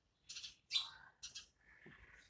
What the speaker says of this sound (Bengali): এই যে পাখির ডাকগুলো শুধু শোনো।